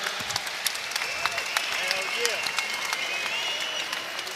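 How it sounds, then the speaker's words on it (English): An arena crowd at a professional boxing match claps steadily and continuously for both fighters after a ten-round bout, with scattered sharp claps and a faint hum of crowd noise beneath. "a round of applause for both warriors, please, in this matchup"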